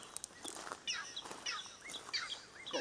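Outdoors on a wet trail, a bird calls in a string of short chirps and whistles, fairly faint and somewhat distant, with no one speaking.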